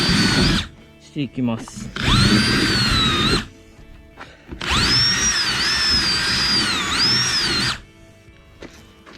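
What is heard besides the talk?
power drill driving screws into amphibious vehicle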